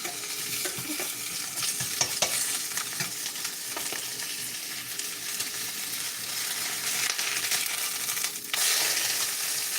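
An egg frying in a non-stick pan over heat turned down to cut the smoke, giving a continuous loud sizzle close by with occasional stirring clicks and scrapes, and no voices.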